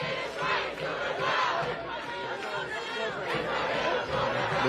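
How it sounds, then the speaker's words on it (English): A protest crowd on a New York City street chants a rhythmic slogan in unison, loud and continuous, with many overlapping voices and chatter around. "The crowd is chanting, "It is right to rebel, NYPD, go to hell.""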